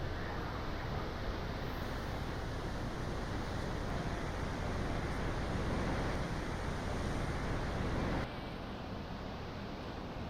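Heavy storm-swell ocean surf at Easter Island roaring continuously, a dense wall of crashing waves and rushing water with wind buffeting the microphone, loud throughout.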